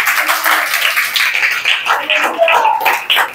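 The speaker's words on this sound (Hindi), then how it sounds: "ताली बजाकर प्रभु को धन्यवाद" A congregation at a prayer service claps its hands in quick, rhythmic bursts that continue steadily throughout, with voices audible alongside the applause.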